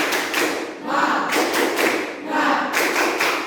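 A class of children claps a rhythmic spirit clap in a classroom, loud bursts of hand claps in a patterned sequence with short pauses between groups.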